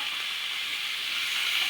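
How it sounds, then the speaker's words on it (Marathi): Clams being stir-fried in a pan for a spicy clam sukka dish: a steady, hissing sizzle that holds level throughout, close and moderately loud, with no voices. "ह्या शिंपल्या आपले तिसरे जे आहेत ते ह्याच्यामध्ये घालायचे आहेत"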